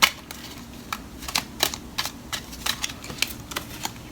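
Tarot cards shuffled by hand during a love reading, a run of quick crisp riffling snaps and soft slaps at an uneven rhythm, close and fairly quiet, with no talking over them.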